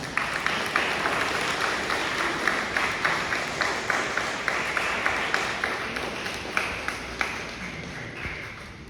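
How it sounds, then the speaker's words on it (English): Sustained applause from a fifth grade graduation audience, many hands clapping steadily and fairly close in a large room for several seconds. "Fifth graders, could you give the adults a round of applause?"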